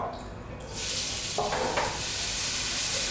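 Finely chopped onion hits a hot pan and erupts into a loud, sustained sizzle that swells after a quieter start, with a brief stirring clatter in the middle.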